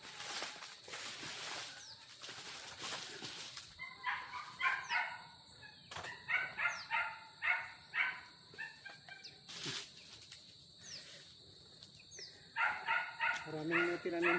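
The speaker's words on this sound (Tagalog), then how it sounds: "Marami din siya dito manok. Ayan, mga manok niya." Chickens on a rice-farm homestead cluck and call in repeated bursts, moderately close, with a dog barking now and then and faint voices in the background.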